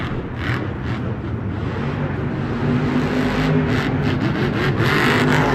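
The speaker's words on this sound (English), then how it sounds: "he is hitting everything at full throttle, never lifting" Monster truck driven by Adam Anderson in a freestyle run at Monster Jam San Antonio, engine held at full throttle in a loud continuous roar with rising revs, heard from the stands amid arena ambience.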